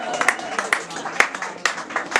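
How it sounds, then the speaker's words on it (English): An audience at the Buxton Fringe launch claps for a performer in sparse, scattered handclaps. The applause is light and not very loud, with distinct individual claps spread across the moment. "Please give a warm round of applause to Jordan."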